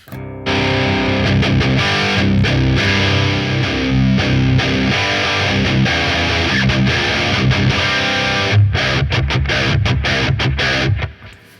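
Electric guitar played through a BOSS OD-200 pedal on its X Distortion setting, heavily gained chugging riffs with sharp palm-muted stops and silent gaps, loud and close, no talking.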